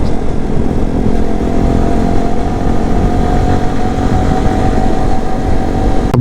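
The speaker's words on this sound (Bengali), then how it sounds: "আমরা এই মুহূর্তে 6টা বাইক নিয়ে যাচ্ছি" A group of six motorcycles riding together in convoy to a biking club programme in Sreemangal; a steady, dense engine drone holds close and loud throughout, with no talk over it.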